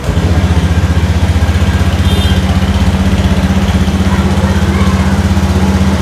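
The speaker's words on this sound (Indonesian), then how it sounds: "kita coba suara mesinnya ya" Honda Vario 110 CBS motorcycle engine idling with a steady, even low putter that runs unbroken and close throughout, with no talking.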